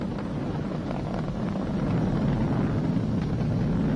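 A SpaceX Falcon 9 rocket climbing past supersonic speed: a steady, heavy low roar with a rough, crackling texture. Constant and even, with wind buffeting on the microphone and no voices.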